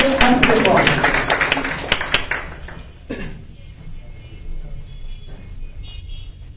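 Students at a spoken-English academy presentation clap in a short burst of close, sharp handclaps that fades after about three seconds into quiet room noise with faint talk.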